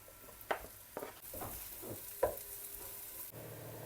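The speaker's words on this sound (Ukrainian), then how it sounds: "Спочатку лиємо олії і печериці підсмажуємо" Mushrooms and onion frying in oil for lean buckwheat, a soft, quiet sizzle broken by several spoon scrapes and stirring knocks against the pan, heard up close with no talk.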